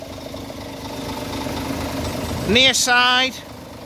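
A Scania Euro 6 engine in a 2017 Scania K410EB Interlink coach idles steadily under a man's speech, and a short higher-pitched whine or tonal sweep rises over it near the end.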